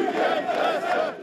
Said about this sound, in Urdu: یہ لوگ جھوٹا میڈیا کے نعرے لگا رہے ہیں